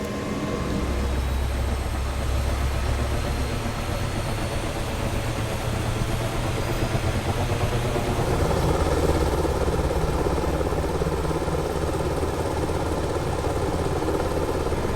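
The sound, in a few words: helicopter engine starting up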